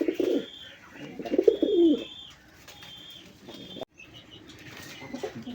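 Big-bodied racer pigeons in a loft coo in low repeated bursts close by, with quick flaps of wings and a few high chirps mixed in; the sound fades briefly near the end.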